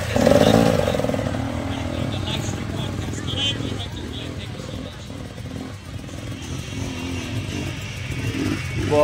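A motorcycle at an endurocross race in Porac, Pampanga, picks its way over rocks: the engine revs and bursts, with clattering underneath, a crowd murmurs in the background, and a voice comments over it.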